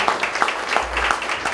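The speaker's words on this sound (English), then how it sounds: "A big round of applause to the people who are helping, serving the food, and making this event happen." Audience applause at a dinner gala: steady broadband clapping from many hands, moderately loud and continuous, with faint voices mixed in the crowd noise.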